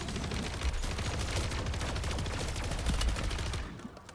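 Rapid automatic weapon fire in MW3 Zombies as a gun shreds through mimics, a dense, loud stream of rattling shots with game effects, fading toward the end with no talking.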